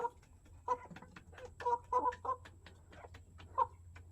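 A chicken clucks in a string of short, spaced calls, quiet and fairly close, over a low steady background hum.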